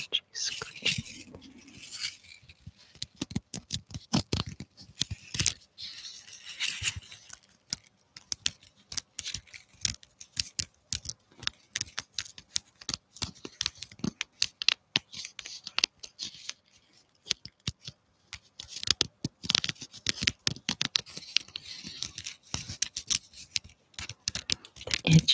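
ASMR scratching during a live winddown session: dense, rapid crisp scratches and rasps close to the microphone, in irregular clusters with occasional soft pauses, continuing throughout.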